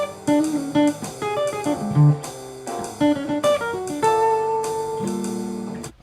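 Jazz guitar playing a minor 2-5 lick, a flowing run of clean picked single notes and chords, heard solo and up close.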